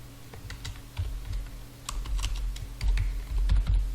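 A prompt being typed on a computer keyboard: soft, scattered key clicks over a steady low hum and background noise, close by, with no voices.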